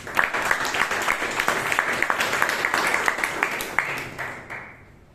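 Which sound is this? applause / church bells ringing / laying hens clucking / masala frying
applause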